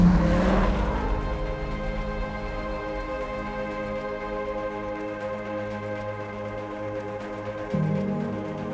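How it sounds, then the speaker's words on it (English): A Dodge Viper ACR engine drones at steady revs in first gear while drifting a track corner, then climbs sharply near the end, loud and close, with no talking. "So I usually drift this corner here in second or third gear, depending on the car."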